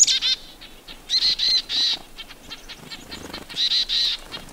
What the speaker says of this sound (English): we've seen dozens of birds come into this area in what's known as a mobbing event